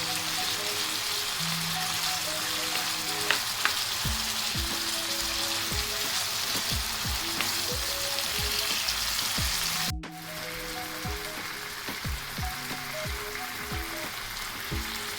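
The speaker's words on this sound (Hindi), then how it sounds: "हम चिकन में मिक्स कर लेंगे ताकि ये अच्छे से फ्राई हो जाए" Chicken frying with ginger-garlic paste in a pan, a continuous crackling sizzle with popping bursts throughout, briefly interrupted by a sharp cut near the middle.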